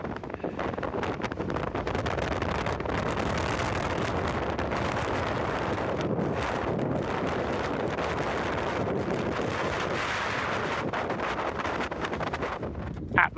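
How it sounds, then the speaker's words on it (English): Strong wind roars across the summit of High Raise, a Lake District fell, buffeting the microphone in a loud, continuous broadband rush with slight surges and no talking. "quite a wind blowing"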